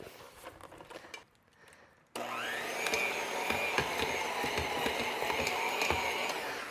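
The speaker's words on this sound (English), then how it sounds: "I'm actually going to use a handheld mixer, and I'm just going to do them right here in this pot" Handheld electric mixer mashing red skin potatoes in a deep pot, starting after a brief quiet gap with a steady loud whirring motor drone and scattered clanks of beaters against the pot.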